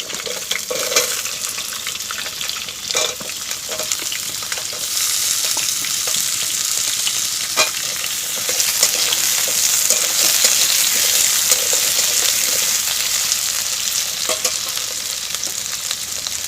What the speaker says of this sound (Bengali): কিছুক্ষণ নেড়ে চেড়ে কিন্তু সবজিগুলো আমি ভেজে নেব